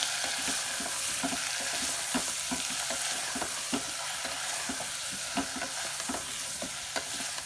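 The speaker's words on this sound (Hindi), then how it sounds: "अब सब मसाला के एक बेर फेर के भूज लेबै" Masala with chopped tomatoes fries in a pan on the stove, a constant loud sizzle with a spatula scraping and stirring at regular intervals throughout, close up and with no voices.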